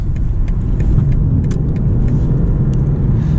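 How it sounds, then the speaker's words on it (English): A BMW M340i xDrive accelerates on a loose surface, its engine a steady, loud low rumble heard from inside the cabin with faint ticking over the top and no one talking. "Now watch, we can accelerate, and it's really good on loose surfaces."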